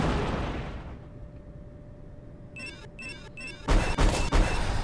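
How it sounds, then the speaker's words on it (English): Missile blasts from the Watchfire Drone Shadow Strike video game: after a quiet stretch with faint crackling, a few repeated whooshing launches lead into several loud, close explosive bursts near the end. "I am liking these Cyclops missiles"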